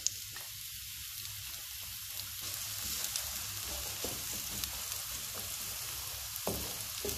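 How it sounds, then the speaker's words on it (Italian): Chopped onion sizzles steadily in hot olive oil in a preheated non-stick pan, a continuous close crackle and hiss with occasional small pops and a light stir, no talking. "In una padella antiaderente metto un giro d'olio, la padella è già calda. Aggiungo la cipolla."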